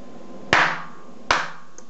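Two sharp hand claps spaced under a second apart to trigger a homemade clapper switch built around a PIC 12F683, each crisp and close with a short decay in a quiet room.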